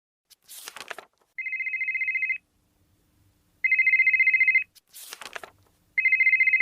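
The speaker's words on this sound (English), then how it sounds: "Do you mind turning off your phone?" A mobile phone ringtone trills in steady buzzing pulses, loud and close, repeating three times with short rustling bursts in between.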